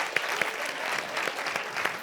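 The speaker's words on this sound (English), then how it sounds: "Big round of applause." An audience applauds steadily at an entrepreneurship event, a continuous wash of many hands clapping, moderately loud and sustained.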